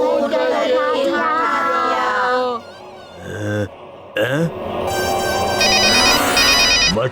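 Cartoon telephone rings in bursts of bright, repeating electronic tones, loud and close, mixed with chattering cartoon voices and busy background sound.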